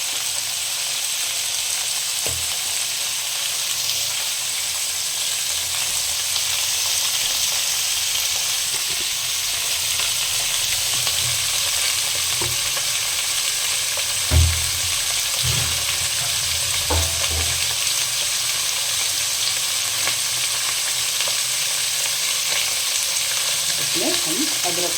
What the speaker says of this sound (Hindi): आलू को हम अच्छे तरीके से फ्राई करेंगे, इसको फ्राई होने देते हैं